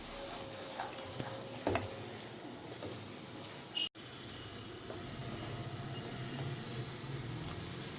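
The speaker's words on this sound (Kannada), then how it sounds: "ಆ್ಯಂಡ್ ಇವಾಗ ಗೋಡಂಬಿ ದ್ರಾಕ್ಷಿ ಹಾಕ್ಕೊಳ್ಳೋಣ. ಹಾಕೊಂಡು ಮಿಕ್ಸ್ ಮಾಡ್ಕೊಳ್ಳೋಣ." Cashews and raisins get stirred into a pan of pineapple kesari bath, a sweet semolina dish, making a soft, steady sizzle with scattered light scraping and ticking. A brief clunk comes near the middle, and no one talks.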